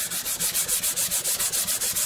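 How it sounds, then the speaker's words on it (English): A guitar body is sanded hard by hand to remove pits. About a dozen quick, even back-and-forth rasping strokes follow close together in a steady rhythm. "Going to be fairly aggressive in my sanding."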